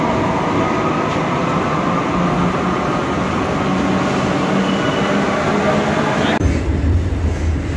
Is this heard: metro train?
yes